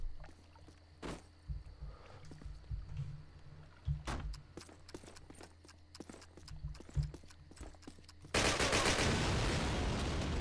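Gunfire in the video game Call of Duty: sharp shots pop out one by one over a low background rumble, then a loud, dense burst of noise takes over at the end, with no voices.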